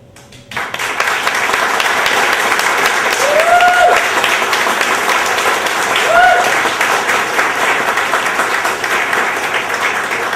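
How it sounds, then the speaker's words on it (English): Audience applauds a panel with a loud, sustained burst of clapping that starts abruptly and carries on for ten seconds, with a couple of whistles and scattered voices riding over it. "we want to have one more round of applause for this wonderful panel"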